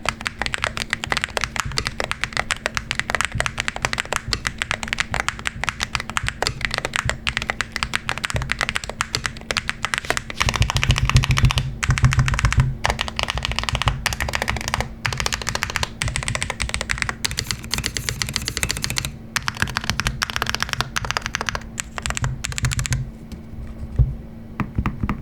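Rapid, continuous typing on a Drunkdeer A75 Ultra mechanical keyboard, crisp clacky keystrokes close up, with brief pauses and a few heavier key presses.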